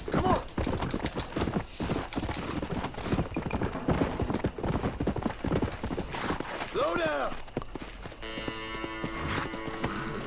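A small horse's hooves clip-clop steadily at a walk through a Red Dead Redemption town, close and continuous, with a person talking over them and a brief whinny near the end.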